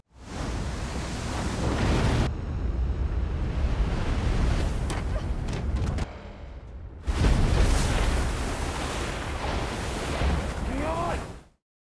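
Ocean waves crashing in a film scene on a watery planet where a grounded aircraft is swamped, a loud continuous roar of surf and spray that cuts out briefly, then surges back before stopping abruptly.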